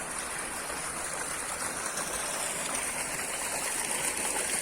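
Water pours steadily into a swimming pool at a fair, a dense broadband rush that stays constant and fairly loud throughout.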